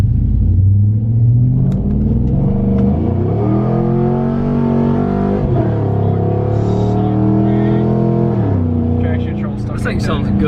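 A Chevrolet Silverado's 5.3 V8 with a big cam, in need of engine work, revs loudly as heard from inside the cab, its deep lumpy drone climbing and falling repeatedly over a steady rumble.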